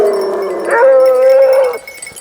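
Grand bleu de Gascogne basset hounds baying on the scent of a hare: a single long, wavering, close bay with a tonal howling quality, rising and then trailing off, heard alone.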